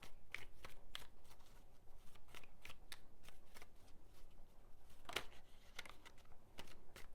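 Soft, steady tarot card handling with irregular light clicks and flicks, close and quiet, like a deck being overhand-shuffled.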